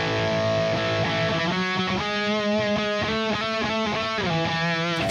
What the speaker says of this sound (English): It's to put a little gallop rhythm on this little run up the string.